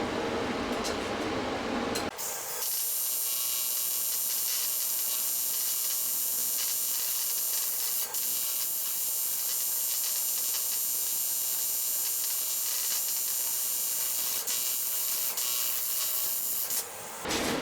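A TIG welder works filler rod into a cracked wheel rim damaged by a pothole, giving a steady, even high-pitched hiss and buzz that runs almost uninterrupted for over fifteen seconds after a brief noisy start.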